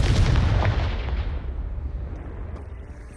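A Confringo fire spell blasts in the Hogwarts Legacy video game: a single loud, close burst of booming noise that rolls away and fades over about three seconds, with no voices.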